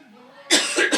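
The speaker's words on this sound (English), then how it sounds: "I had to cough for a minute." A man coughs into a close microphone during a football coaches' interview. A few harsh, loud bursts follow a brief faint vocal sound.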